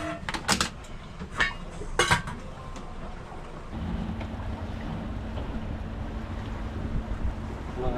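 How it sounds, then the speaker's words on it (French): A steady rush of water and wind from a boat crossing the choppy wake waves of a large ship, with a low engine drone and a few sharp splashes early on. "Et on a les vagues du gros bateau."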